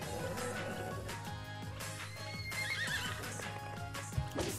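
Horse in the video game Miitopia neighs amid game music, with a whinny and rhythmic hoof clip-clops over a steady synthetic score, fairly faint overall.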